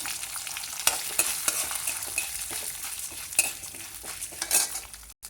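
Urad dal and chana dal fry in a pan for brinjal chutney, a soft crackling sizzle broken by frequent scraping stirs and light clinks of a spoon against the pan.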